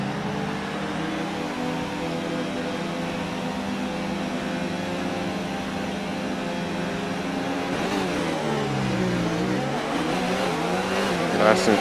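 Steady high-pitched whine of an F1 race car engine rolling along on a formation lap in a racing video game, droning continuously with a brief shift in pitch near the end.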